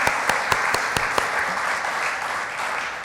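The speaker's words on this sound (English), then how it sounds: "So you can really clap loud for Marie." Audience clapping loudly at a celebration event in St. Louis, a dense steady wash of many hands with a few sharper claps standing out near the start, alone without talk.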